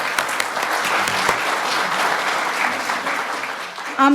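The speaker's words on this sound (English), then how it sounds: "Can we just give them a round of applause?" An audience gives a warm, dense round of applause for guests at a cerebral palsy family day panel, steady and close for several seconds before tapering off at the end.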